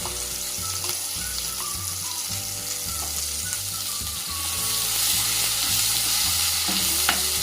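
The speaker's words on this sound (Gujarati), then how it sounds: "હવે ડુંગળીની તૈયાર કરેલી પેસ્ટ નાખીશું।" Onion paste sizzling in hot oil with mustard seeds, cumin and asafoetida, cooked for a cashew and makhana curry; a steady, close frying hiss with stirring clatter that grows slightly louder toward the end.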